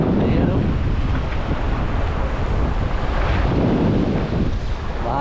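Strong wind buffets the microphone at a trout fishing spot by choppy water, a loud, continuous roar with the low rush of waves underneath.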